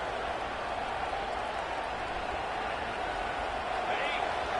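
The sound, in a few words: stadium crowd cheering in Football 25 video game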